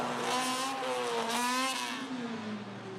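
Mid-sized trucks race down a mud drag track, engines revving hard with rising and falling whining tones, loud and steady, fading slightly toward the end.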